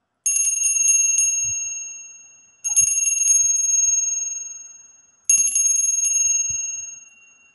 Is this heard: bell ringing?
yes